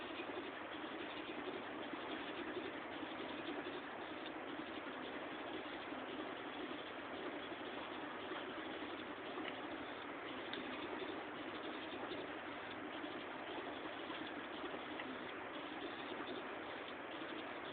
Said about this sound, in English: Look to the servo motor here when we make an obstacle in front of the